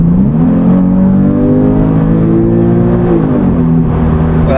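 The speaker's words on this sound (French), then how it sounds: "Allez, mets du gaz maintenant" Porsche car engine revving loudly under acceleration from inside the cabin, a steady rising drone that shifts pitch midway and holds, close and continuous.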